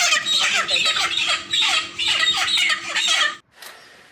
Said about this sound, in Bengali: মুরগিটা জ্যান্ত কিনা আওয়াজ শুনে বুঝতে পারবেন